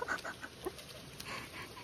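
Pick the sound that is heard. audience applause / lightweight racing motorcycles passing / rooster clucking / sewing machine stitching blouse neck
rooster clucking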